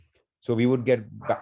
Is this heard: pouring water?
no